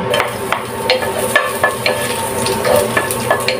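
Garlic frying in a pan for a mussel tinola, a steady close sizzle broken by repeated scraping stir strokes, with no voices.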